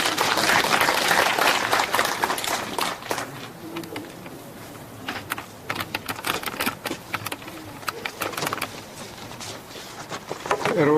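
Applause at a literary award ceremony (the 23rd Pyeonun Literary Award) greets the steering committee chair. Dense clapping at first thins into scattered individual claps, with faint murmuring behind.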